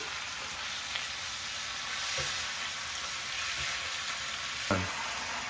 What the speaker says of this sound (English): So you're just going to mix all that in.